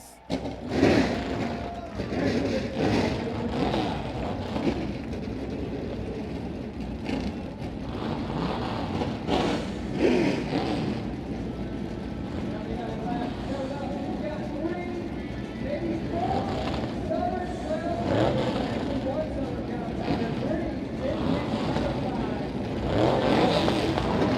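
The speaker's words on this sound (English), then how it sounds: "Drivers, start your engines!" Modified Tour race car engines start and rev together at a motorsports event, making a dense, continuous roar. Loud announcer or crowd voices run over it for the whole stretch.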